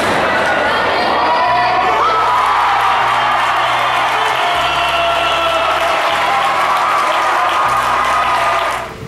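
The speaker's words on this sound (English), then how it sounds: "The crowd went wild." A big basketball crowd roars and cheers continuously, dense and loud throughout, with a deep rhythmic bass thumping underneath and scattered shouts rising from the mass of voices.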